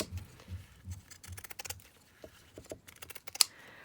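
Scissors trim fabric for a junk journal cover, producing quiet, close snips and soft papery clicks in an uneven patter, with no one speaking.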